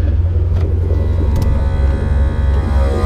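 A steady low droning motor hum from the air suspension compressor of a 2013 Mustang GT runs continuously, loud and close, with a few faint clicks and no talking.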